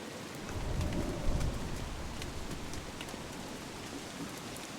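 Soft, steady rainfall hisses throughout in the video game Don't Starve, with a low rumble of distant thunder swelling early on, quiet and continuous with no voices.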